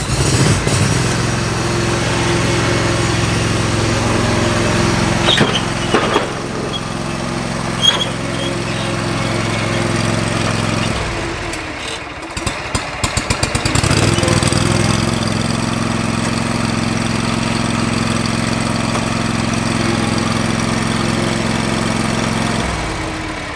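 A lawn mower engine idles steadily and loudly, close by in a shop, with a brief sputtering dip before settling back to an even drone.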